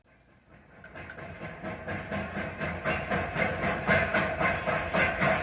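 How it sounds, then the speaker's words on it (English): A train with a caboose pulls away on rails, its rhythmic clickety-clack building from quiet to steady as wheels pass over joints, with a hissing undertone, a staged radio-drama effect. "Otto and Keith are aboard the caboose. We'll shove off"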